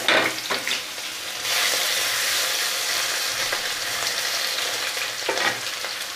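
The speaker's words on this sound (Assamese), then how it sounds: "ইয়াতে ভাঙন মাছখিনি ফ্ৰাই কৰিম" Local bhangan fish fry in a pan, giving a loud, continuous close sizzle with bursts of crackling spatter that swell and ease as pieces shift in the hot oil.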